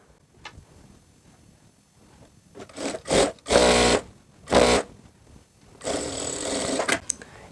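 A sewing machine stitching a side seam of a skirt palazzo cut from two-hand-wide fabric, running in several short bursts of loud, steady whirring with brief pauses and faint handling sounds between.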